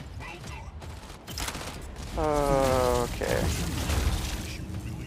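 Mortar fire and explosions in a video game, with Arachnos being played, come as a loud bursting barrage with a harsh mechanical rattle in the middle of the clip, set against busy game noise, while a voice speaks briefly.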